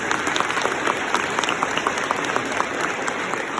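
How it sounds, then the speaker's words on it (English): A crowd at a 5K charity race gives a steady, sustained round of applause, with dense clapping holding at an even level throughout and no one speaking. "So give them a round of applause, please."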